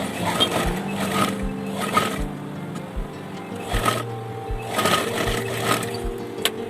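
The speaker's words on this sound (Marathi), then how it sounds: "खालच्या साईडने सुरुवात करत आहे मी स्टिच करायला" Sewing machine stitching the neckline of a stone-work blouse, running in short repeated bursts of rapid mechanical chatter with brief pauses between runs, close and steady with no talk.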